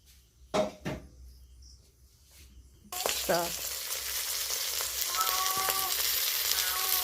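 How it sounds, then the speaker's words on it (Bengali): Pieces of bhetki fish fry in a pan with a steady, loud sizzle that starts abruptly partway through, after a few quieter knocks and clatters of utensils; the crackle then continues unbroken to the end with no talking. "এই সেমভাবে আর বাকি মাছগুলো আমি ভেজে নেব।"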